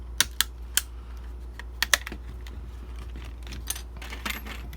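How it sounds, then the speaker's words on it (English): Clips on an Xbox Elite Series 2 Core controller faceplate snap loose in a string of sharp, light plastic pops and clicks, irregular and close, over a steady low hum, with no voices. "You can probably hear that popping."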